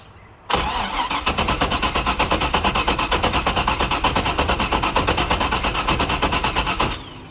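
A turbocharged LS V8 swapped into a Miata cranks over with the plug wires off, the starter spinning it in a fast, steady rhythmic churn for about six seconds, loud and close, then stopping.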